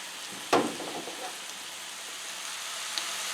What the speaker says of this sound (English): my sausage is about half done right now. I'm going to continue browning it